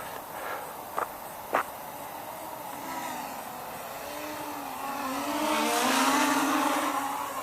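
A fast JYU Hornet S racing drone of about 600 grams flies outdoors, its motors producing a steady buzzing whine that rises and swells louder as it passes closer, with a couple of brief knocks early on.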